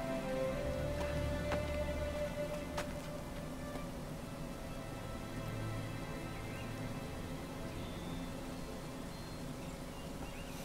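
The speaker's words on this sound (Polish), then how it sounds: "Przy okazji zaczął padać deszcz." Rain falling in the video game Assassin's Creed 3, a faint, steady patter and hiss holding evenly throughout with occasional low rumbles underneath.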